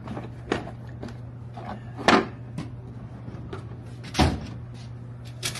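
Power drawer in a marine technician's tool box sliding open and shut, with several distinct knocks and rolling clunks spaced a couple of seconds apart over a steady low hum.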